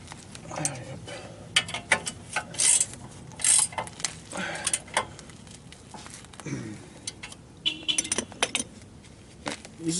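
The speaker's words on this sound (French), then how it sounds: "On vient resserrer le tout." Ratchet wrench tightening front brake components on a 2011 Mitsubishi Lancer, heard as bursts of quick metallic clicking and clinking spread through the clip, close up, with a few faint voice sounds between the bursts.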